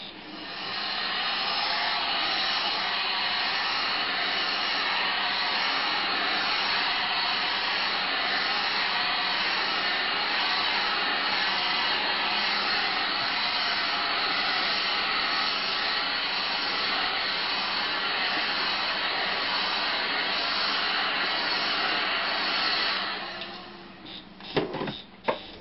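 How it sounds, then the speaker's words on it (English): A heat gun blows steadily while softening material for a costume build, with a loud, even hiss that holds for over twenty seconds before shutting off, followed by a few faint knocks. "Alright, heat gun again."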